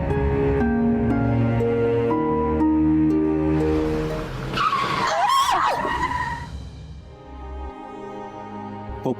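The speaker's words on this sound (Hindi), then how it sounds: "अरे भाई तेज चलाओ गाड़ी" A car driven fast on a road screeches into a long, loud tire skid after a stretch of steady engine drone, the squeal rising and sweeping before fading back to a low rumble.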